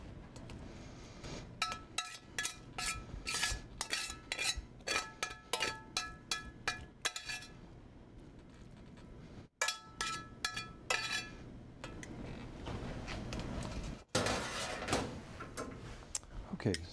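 Plates and a platter clink and knock in a kitchen as spinach is plated, a long run of sharp, uneven clatters close by, with short pauses between bursts.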